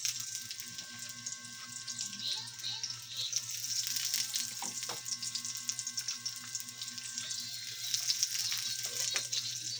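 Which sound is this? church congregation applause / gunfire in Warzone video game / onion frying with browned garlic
onion frying with browned garlic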